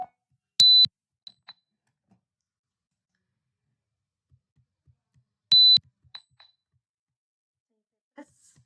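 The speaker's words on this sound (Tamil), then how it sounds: "ஒரு பீப் சவுண்ட் வரும்." A motion detection alarm program gives two short, steady, high-pitched electronic beeps several seconds apart, each cleanly cut off, with faint clicks and near silence in between.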